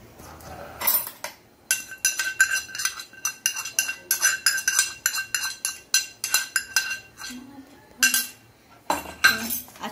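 A spoon mixes rava idli batter with curry leaf tadka in a bowl, clinking and scraping in quick rhythmic strokes up close, with a few brief pauses.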